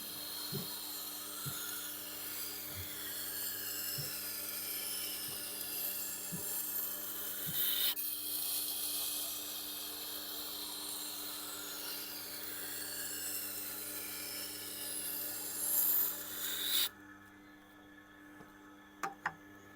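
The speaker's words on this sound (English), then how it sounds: "I try and grind knives as little as I can to preserve as much metal as possible" A knife is ground on a Tormek sharpener set to fine, giving a steady, close rasping rub that runs without a break and then cuts off near the end, followed by a couple of faint clicks.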